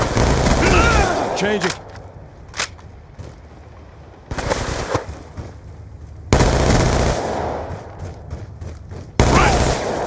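Gunfire in a shooter video game, long loud bursts of automatic fire that come and go across the clip, with talk heard in between.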